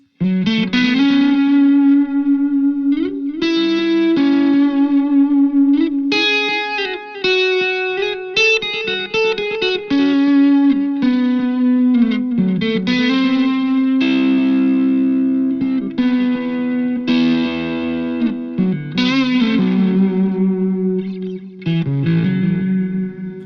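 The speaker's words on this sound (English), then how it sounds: "that was a really slow chorus with a pretty thick delay" An electric guitar through a Visual Sound H2O liquid chorus and echo pedal plays a slow melodic line with a wavering chorus shimmer and thick trailing delay echoes, continuous and fairly loud.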